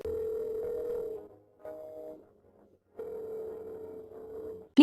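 A phone ringback tone repeats in long buzzing pulses separated by pauses, unanswered, ending with a brief sharp blip.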